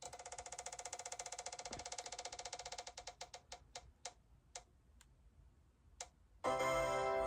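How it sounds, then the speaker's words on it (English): A spinner wheel ticks rapidly as it spins, the clicks steadily slowing and spreading apart until they stop, followed by a burst of loud electronic sound at the end. "let's get our spinner wheel up and pick our final book for this video"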